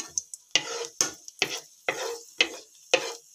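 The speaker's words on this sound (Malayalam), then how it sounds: "നെയ്യ് ചൂടായപ്പോൾ അണ്ടിപ്പരിപ്പ് ഇട്ട് കൊടുത്തിട്ടുണ്ട് നെയ്യിലേക്ക്." Cashew nuts frying in hot ghee, with sharp bursts of sizzling and stirring scrapes in a quick regular rhythm, about seven strokes close up, no talk.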